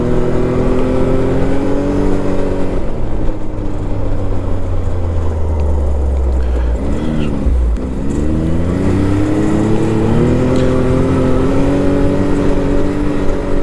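Can-Am Maverick X3 DS Turbo RR side-by-side driving on a trail, its turbo engine loud and close with steady rumble and rising, falling revs as it shifts, accelerating continuously throughout.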